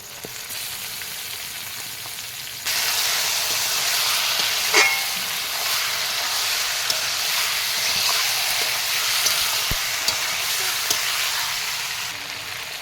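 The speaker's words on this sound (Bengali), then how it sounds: "মশলা দিয়ে তেল ছেড়ে গেছে, তেল ছেড়ে দিয়েছে। এখন ধোয়া মাংসগুলো এর মধ্যে দিয়ে দেব।" Washed meat dropped into hot spiced oil sets off a sudden loud sizzle and hiss that continues steadily, with a few faint clinks and no voices.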